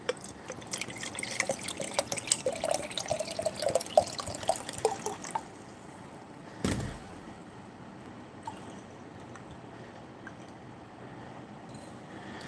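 Cold bottled water from a fridge pours in a steady trickling stream for about five seconds, then stops, leaving a faint clunk and quiet room tone.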